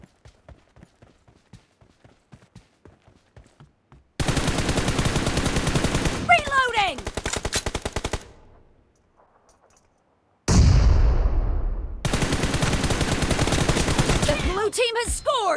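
Gunfire in a shooter video game comes as loud sustained automatic bursts after a stretch of quieter rhythmic clicks and footsteps, with game effects between the bursts.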